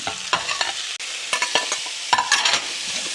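Vegetables for Mexican-style braised short ribs sauté in a pot, a close, loud, continuous sizzle broken by scraping stirs of a spoon, with no talk.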